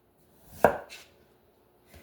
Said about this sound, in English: You can get them thin with a knife.